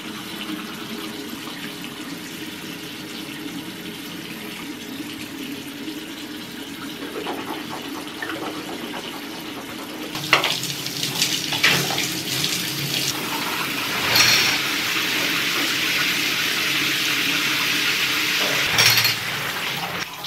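Tap water running steadily into a sink, a continuous rushing hiss that grows fuller and louder partway through, with a few clinks and splashes as something is moved under the stream.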